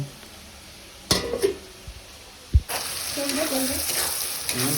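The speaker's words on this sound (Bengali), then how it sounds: "পেঁয়াজ ভাজা হচ্ছে, রসুন ভাজা হচ্ছে" Onion and garlic fry in a pan, a soft sizzle broken by a few sharp clinks and scrapes of stirring before a louder, sustained frying hiss takes over.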